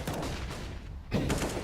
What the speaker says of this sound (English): Just everyone spamming their guns.